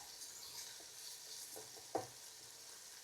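Bacon frying in a pan for a chicken fillet cream of mushroom dish: a steady, quiet sizzle with a few soft stirring scrapes and one brief louder clack.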